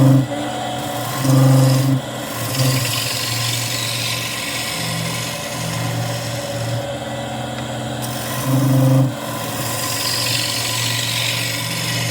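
A sharpened gouge cuts black walnut spinning on a wood lathe while a cookie jar is being turned, giving a steady scraping hiss over a constant motor hum, with a few louder cutting swells.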